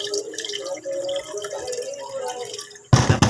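Water drains off washed rice in a steady, close trickle with dripping, a louder splashing burst arriving near the end.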